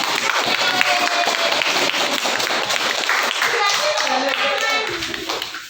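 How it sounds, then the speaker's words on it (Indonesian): A classroom of children applauding together on a teacher's cue, dense clapping that stays loud and steady for several seconds before thinning out near the end, with faint young voices mixed in. "Kita beri tepuk tangan bersama."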